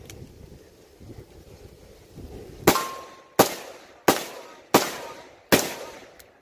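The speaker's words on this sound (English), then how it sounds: "I'm gonna try to shoot as fast as I can." Five heavy, booming shots from a 500 Magnum revolver loaded with 700 grain Underwood ammunition, fired as fast as possible with roughly even gaps and each blast ringing out into a short decay outdoors.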